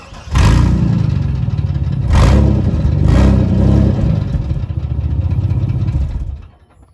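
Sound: 1998 GMC Sonoma truck engine revving with water bottle on exhaust

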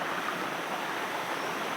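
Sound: mountain stream flowing

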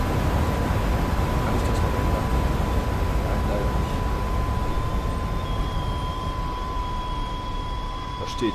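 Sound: regional train arriving at station, video game Train Simulator

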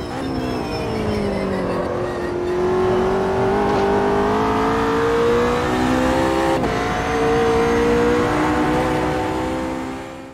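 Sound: McLaren 720S GT3 engine and transmission sound in Automobilista 2 video game

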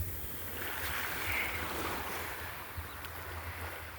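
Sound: sea waves at the beach in the morning

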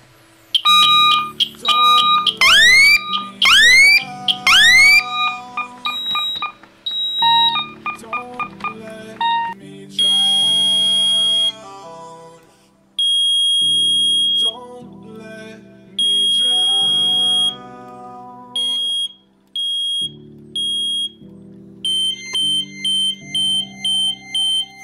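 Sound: smoke detector alarm beeping

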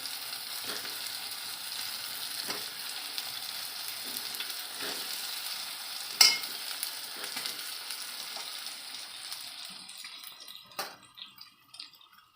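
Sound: stuffed brinjals frying in masala

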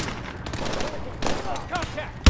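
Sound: light machine gun fire in Call of Duty: Advanced Warfare video game

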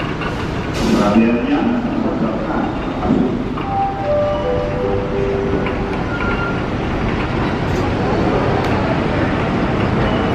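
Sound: passenger train arriving at station

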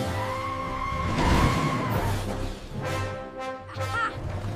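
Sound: cartoon monster truck tires spinning, losing grip on steep slope

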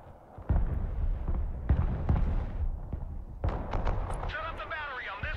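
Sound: artillery fire in the video game Broken Arrow

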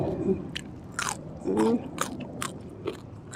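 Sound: crunchy biting and chewing of food

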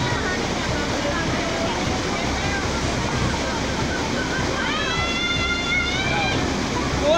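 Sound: rushing flooded Cuaba river

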